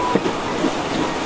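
Rain beginning to fall outdoors during a ceremonial washing of heirloom blades, a steady broadband hiss of drops on surfaces running throughout with no voices.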